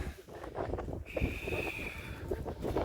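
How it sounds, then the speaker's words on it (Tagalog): Strong, cold wind buffets the microphone on the Mount Guiting-Guiting summit with a constant low roar, and a thin whistling tone rises in the middle. "Malakas yung hangin."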